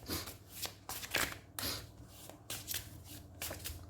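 Tarot cards are shuffled by hand in quick, close riffling bursts, each a brief papery rush separated by short pauses, fairly quiet overall.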